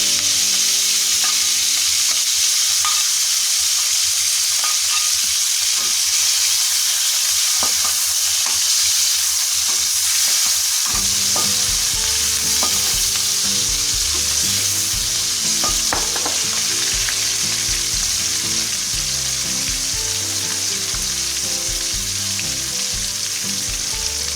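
Shallots fry loudly in a pan with a dense, constant sizzle while a spoon stirs and scrapes through them in busy, repeated strokes.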